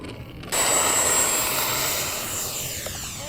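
A radio-controlled model airplane flies at Fritz Field, its motor whine cutting in suddenly and loud, then gradually easing and falling slightly in pitch as it moves away.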